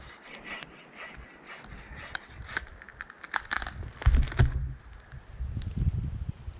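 Hand saw cutting through wood at a wet, windy wild campsite in the northern wilderness, heard as uneven rasping strokes with scraping and crunching, growing heavier toward the end, close by and without speech.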